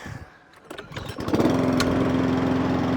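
A petrol engine on a Mountfield SP454 lawn mower with a hunting and surging fault sputters, then catches and settles into a steady, loud running drone close by.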